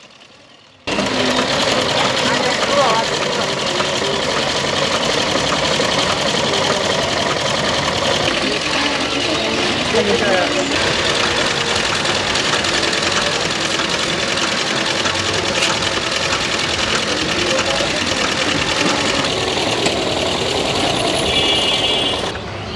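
A domestic sewing machine runs steadily for about twenty seconds, a continuous mechanical whir with rapid stitching rattle, close and loud, used by a village woman demonstrating her sewing.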